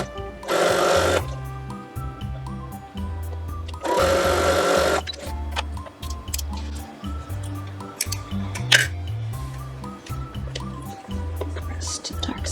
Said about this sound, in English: I'm just going to assume I got it right and start sewing.